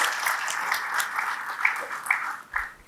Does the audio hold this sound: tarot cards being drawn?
no